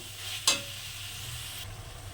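Chicken cooking slowly in a pan for ghugni, a soft, steady sizzle broken by one brief stir-scrape close up, quiet and with no voices.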